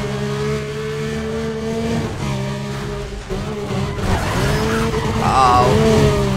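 Porsche race cars in the video game Need for Speed Undercover, steady loud engine drone with shifting pitch, rising revs and squealing tyres toward the end, close and continuous.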